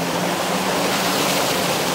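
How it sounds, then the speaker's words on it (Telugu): Small waterfall spilling onto rocks at a quiet hidden spot near Rishikesh, a steady close broadband rush of falling water that holds constant throughout with no voices or other sounds. "ఈ సౌండ్, ఈ రాక్స్ పైన ఈ వాటర్ పడుతున్న సౌండ్"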